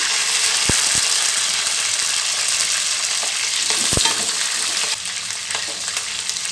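Mustard seeds, capsicum and onion fry in a pan, a loud steady sizzle broken by a few sharp knocks of a spoon against the pan, easing slightly quieter near the end.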